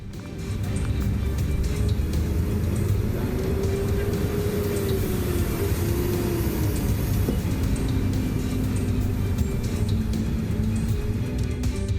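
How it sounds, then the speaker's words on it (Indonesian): Intercity buses pull into Kalideres bus terminal in Jakarta, a steady low engine rumble with a gliding drone as one vehicle moves through, constant and moderately near. "Satu persatu bus antar kota dan provinsi dari sejumlah kota di Pulau Jawa dan Sumatera mulai berdatangan di Terminal Bus Kalideres"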